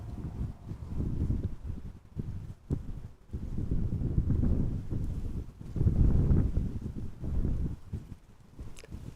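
Gusty crosswind at Amsterdam Schiphol Airport buffets the microphone in low, uneven rumbling waves that swell and ease, with no voices.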